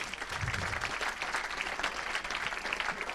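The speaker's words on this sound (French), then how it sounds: "Encore une petite salve d'applaudissements" Audience applause after a three-minute team presentation at a 24-hour event, a full, continuous burst of many people clapping with a faint crowd murmur underneath.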